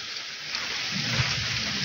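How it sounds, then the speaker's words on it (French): Heavy afternoon rain pours down outdoors as a dense, steady hiss of drops on surfaces, loud and unbroken throughout. "ça pleut vraiment"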